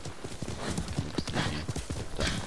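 A horse's hooves clip-clop at a brisk, steady pace in the video game Ghost of Tsushima, close and clear across the whole stretch with faint snorts and no speech.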